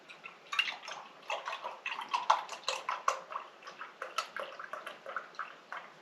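Milk poured from a measuring cup into a bowl at a campsite for fire-baked mac and cheese, a close gurgling, splashing liquid stream with irregular bubbly pulses lasting several seconds, no talking over it.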